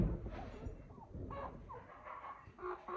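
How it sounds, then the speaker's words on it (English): Juvenile red sex-linked pullet chickens cluck and chirp softly in short, scattered calls, close but faint. "This is a group of 15 red sex-linked chickens."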